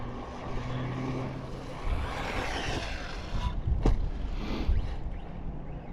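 A Team Corally Syncro 4 RC car drives over rough ground and jumps, with a steady motor whir and crunching tire rumble, then a couple of sharp thuds as it lands.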